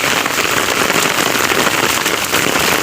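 Heavy rain pours steadily, a dense continuous hiss of drops pattering on surfaces with no pauses or voices.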